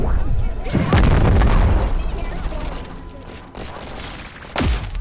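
Deep booms and bursts from RPG rocket explosions in the video game Animal Company, loud and close, with rumbling blasts and a final sharp pop, overlapping excited talking.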